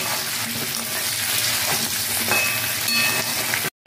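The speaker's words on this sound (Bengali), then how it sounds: "এবারে দিয়ে দিচ্ছি গোটা পেঁয়াজ, পেঁয়াজ দিয়ে আমি একটু ভালো করে ভেজে নেব।" Whole onions and whole spices fry loudly in hot oil, a dense crackling sizzle with stirring, cutting off abruptly at the end.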